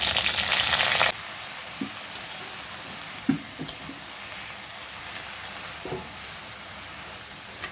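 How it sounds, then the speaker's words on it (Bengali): Green chillies hit hot oil with a loud burst of frying sizzle that cuts off after about a second, then a quieter continuous simmer follows with a few scattered pops and stirring clicks. "লঙ্কাটা আগে একটু ভেজে নেবে মা তেলের মধ্যে, কাঁচা লঙ্কা।"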